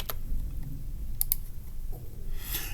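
Keystrokes clatter on a computer keyboard as numbers are entered into a spreadsheet, with a quick double tap in the middle and scattered clicks over low room hum, close and moderately quiet.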